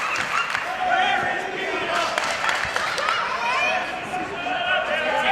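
Wrestling crowd at a women's match cheering and shouting in a steady, dense roar, with whistles and yells rising throughout.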